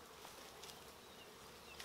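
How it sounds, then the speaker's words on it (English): A faint, steady buzz of many bees around a hive drones continuously in the background, soft and unbroken. "lot of bees on that."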